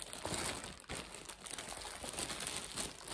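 Crisp plastic bag packaging around a Longchamp bag crinkles and rustles up close, in dense irregular bursts throughout.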